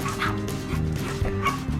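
Chihuahuas square off against a larger dog, with quick yappy barks and whimpering yips that stack into a busy, continuous scuffle heard up close.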